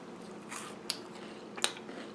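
Crunchy bites into fried funnel cake fries, with two sharp, close crisp snaps standing out over quiet chewing noise.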